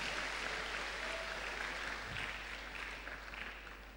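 Audience of students at a university orientation week gathering clapping, a steady wash of applause at moderate distance that fades slightly toward the end, over a low constant hum.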